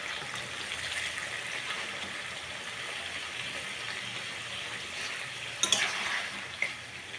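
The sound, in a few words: frying bitter gourd on low heat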